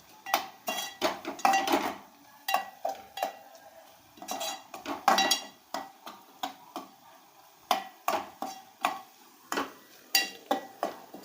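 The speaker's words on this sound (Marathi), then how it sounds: "सगळे मसाले असे मिक्स करून घ्यायचे चांगले चांगले परतून घ्यायचे" Spices for Maharashtrian vada rassa being stirred and sautéed in a pan, with a rapid run of metal spoon scrapes and clinks against the pan, close and rhythmic throughout.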